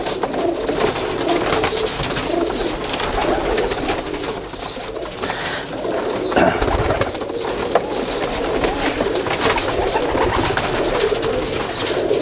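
A Teddy pigeon cradled in a hand gives steady, rolling coos up close for several seconds, with faint wing rustles and handling noise mixed in.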